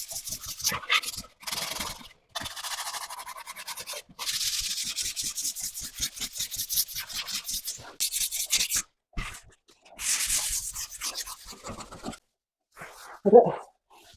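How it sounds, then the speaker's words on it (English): Close, rhythmic back-and-forth strokes of hand-sanding dried drywall joint compound on a mobile home wall, coming in repeated bursts separated by short pauses, with no talking. "All right, time to start sanding."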